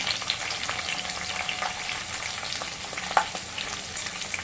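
Chopped green chillies frying in hot oil, a loud, continuous crackling sizzle with occasional sharper pops and light stirring, close by, no voices.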